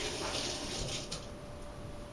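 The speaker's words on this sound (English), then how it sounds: "Let me rinse my hands very quickly here" Hands rinsed under a running kitchen tap, a steady close hiss of flowing water splashing continuously, with a soft bump partway through.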